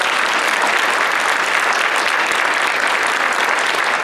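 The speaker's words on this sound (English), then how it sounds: "So let's have a round of applause for Sean." A banquet hall crowd gives a round of applause at a chamber awards banquet, producing dense, even clapping that holds steady and loud for the whole stretch with no voices on top.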